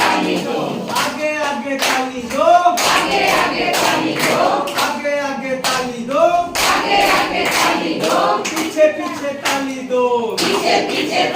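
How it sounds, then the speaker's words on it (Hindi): An audience at a one-day orientation workshop for head teachers and anganwadi workers claps loudly in repeated bursts while a man keeps chanting over the applause. "जोर जोर से ताली दो"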